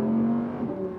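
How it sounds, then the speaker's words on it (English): An Audi R8 V10 Plus engine running in dynamic mode with the sport exhaust. A low, steady, rich drone holds near and loud for about a second with no voices. "when you put the car into dynamic mode, the tone of the engine changes"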